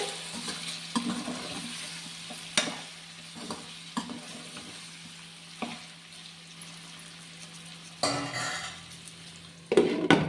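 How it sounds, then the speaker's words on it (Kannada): Afghani chicken sizzles steadily in a pan, with sharp clanks and scrapes of a spoon stirring it at intervals, close and fairly loud, with no talk. "ಇದನ್ನು ಅವಾಗವಾಗ ಮಿಕ್ಸ್ ಮಾಡ್ತಾ ಇರೋಣ. ಈ ಥರ ಇನ್ನೂ ಸ್ವಲ್ಪ ಫ್ರೈ ಆಗಲಿ."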